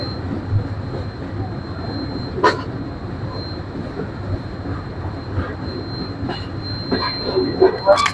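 A train travels from Natore toward the Hili border in the rain, with a continuous near rumble, a faint steady whine of wheels, and occasional sharp clanks and knocks.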